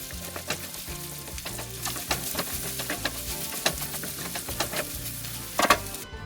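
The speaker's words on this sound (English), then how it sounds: "heat up some oil in there and then put in the peppers, the onion, and the garlic" Peppers, onion and garlic frying in oil in a cast iron skillet for ratatouille give a steady, close sizzle, broken by sharp clicks and scrapes as the vegetables are stirred, with no talking.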